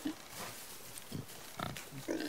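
Short grunts and snorts of a wild boar in the video game God of War, a few brief bursts spread across a couple of seconds with quiet gaps between.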